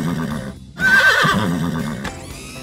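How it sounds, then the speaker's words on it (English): A loud, shrill horse-like whinny bursts in after a brief pause, wavering and trailing off over a bed of steady tonal background sound. "your siren neighs just like a horse."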